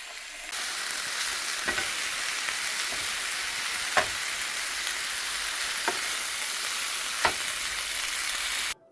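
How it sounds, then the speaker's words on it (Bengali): Onions frying in a pan with garam masala, a steady close broadband sizzle lasting throughout, punctuated by a few sharp pops and clicks before cutting off at the end. "এখানে আমি সব গরম মশলা দিয়ে পেঁয়াজটাকে একদম লাল করে ভেজে"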